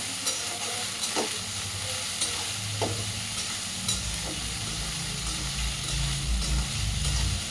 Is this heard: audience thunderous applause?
no